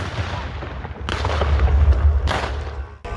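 Gunfire and explosions at a reenactment of a World War II battle, heavy booming blasts and volleys rolling in bursts over a constant low rumble, loud and close throughout.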